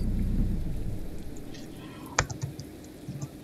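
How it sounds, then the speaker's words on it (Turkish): Steady rain hisses across the whole stretch with a sharp crack and a few rumbling thuds near the end, heard alone without talk. "Abo yağmur ya, yağmur ya."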